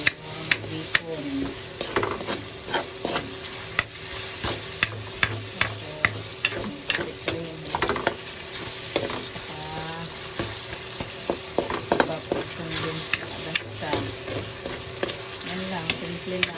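Bacon and mushrooms for carbonara fry loudly in a pan, giving a steady close sizzle broken by frequent sharp crackles and spatula clicks.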